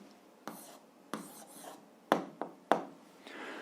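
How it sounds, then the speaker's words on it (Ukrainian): Pen or pencil writing an answer by hand on paper, heard as several short scratching strokes with small taps between them, close and quiet, with no talking. "а зараз записуємо відповідь, пишемо відповідь"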